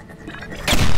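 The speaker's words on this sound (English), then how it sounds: "Just a mild case of the explosions." A sudden loud boom bursts out in the puzzle game Bridge Constructor Portal, rising from a quieter rumble into a heavy, sustained blast near the end of the second.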